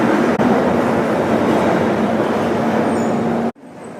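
A Kochi Metro train running, a loud, steady rumbling ride with a sustained low hum that cuts off sharply just after three and a half seconds, leaving quieter background noise.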